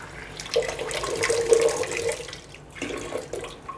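Running tap water splashes steadily over a Kangen water ionizer part, likely from a JRII, JR IV or SD501 unit, as it is rinsed in a sink, close and continuous with shifting splashes and no voices.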